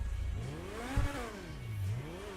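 A car engine in the video game GTA Online revs up and down in smooth swooping waves, moderately loud and steady, with no voices.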